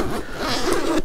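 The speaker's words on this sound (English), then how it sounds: "It's got branded zippers, but the zippers are actually pretty decent quality." A zipper on a camera bag is pulled in one quick, close stroke, a bright rasping burr lasting about a second.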